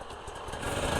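KTM and Husqvarna enduro motorcycles rev on a very wet trail ride, a brief burst of light, buzzing engine noise close by that rises in loudness toward the end.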